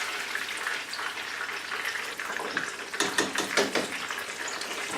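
Jerk chicken egg rolls fry in hot oil with a steady crackling sizzle, while a burst of sharper pops and spatters rises near the middle before settling back; no one speaks.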